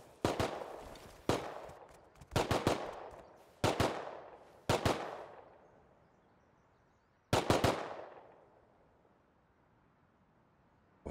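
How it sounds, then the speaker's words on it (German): Gunfire from a scientist NPC in the video game Rust: short bursts of several rapid shots, each fading into a ringing echo, repeated about six times over several seconds at moderate distance. "Was hat er denn jetzt geschossen, Alter?"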